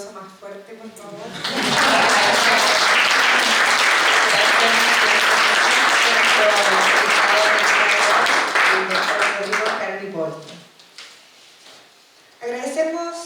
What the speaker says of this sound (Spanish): Con un aplauso más fuerte, por favor.